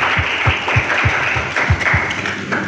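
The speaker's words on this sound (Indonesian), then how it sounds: "Tepuk tangan dulu dong." Audience at a stand-up comedy competition in Bekasi applauds, a dense wash of clapping with a few louder rhythmic claps pulsing through, steady and fairly loud throughout.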